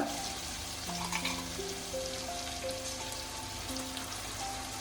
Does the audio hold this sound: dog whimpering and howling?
no